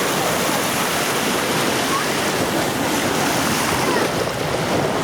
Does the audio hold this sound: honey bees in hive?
no